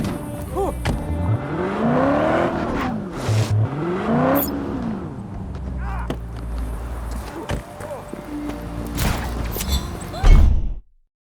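A car engine in Just Cause 3 rises and falls in sweeping revs as it drives, with thuds and clunks mixed in, ending in a loud burst before abrupt silence.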